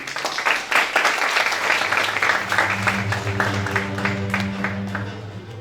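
Seminar audience applauding to welcome a speaker, a burst of clapping that thins out over a few seconds while a low hum and murmuring voices come in beneath it.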